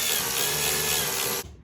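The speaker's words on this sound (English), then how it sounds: "I've got the electric ratchet with an extension, and it is definitely a T30" Electric ratchet with an extension spinning T30 bolts on a BMW E46, a loud buzzing motor whir running steadily close up, then stopping abruptly.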